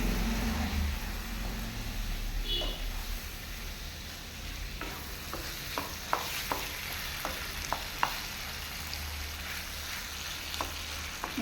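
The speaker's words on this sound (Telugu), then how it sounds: "కలుపుతూ ఉండాలి, వదిలేయాలి. ఎందుకంటే చాలా డెలికేట్ కదా ఇది, లివర్ అనేది తొందరగా అదైపోతుంది." Chicken liver fries in a pan with a continuous soft sizzle, while a spoon stirs it in a series of quick scraping ticks and taps that grow more frequent toward the end.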